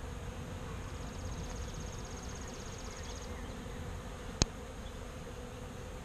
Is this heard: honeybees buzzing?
yes